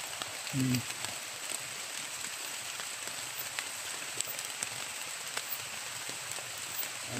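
Steady rain hissing down outdoors among grass across the whole stretch, with scattered drops tapping nearby and a brief low voice early on.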